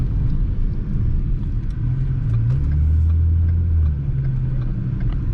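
A McLaren sports car with laggy paddle shifting drives along with a steady engine drone, and a low swelling rumble rises through the middle before easing back, all heard from inside the car.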